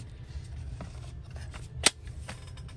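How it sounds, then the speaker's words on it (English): Scissors cutting paper gift tags, a few soft snips under quiet room tone with one sharper, louder snip near the end. "when I'm cutting a few, I'll usually cut towards me"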